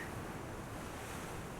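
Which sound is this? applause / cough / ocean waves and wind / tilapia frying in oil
ocean waves and wind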